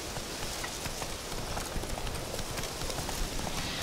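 Roach's hooves clip-clop steadily in The Witcher 3, a continuous close rhythmic trotting on the ground with no voices over it.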